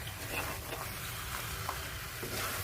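Mutton korma with coconut and cashew paste and fried onion is stirred in a pan, a soft steady sizzle with faint scraping and stirring sounds, quiet and close.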